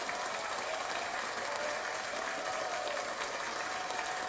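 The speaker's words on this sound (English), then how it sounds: "round of applause for you because you're the reason" Steady crowd applause, a dense, even wash of clapping that holds for several seconds without a break.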